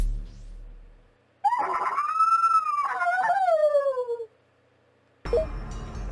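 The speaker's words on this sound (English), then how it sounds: "A blood-curdling howl rings out in the dark." A long, blood-curdling howl in the dark in a horror video game, one rising then falling wavering cry that dominates after a quiet start, followed by silence and then a low rumble of ambience.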